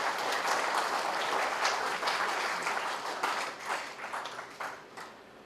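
Audience applause at a memorial lecture, a dense steady wash of many hands clapping that gradually thins into scattered individual claps toward the end.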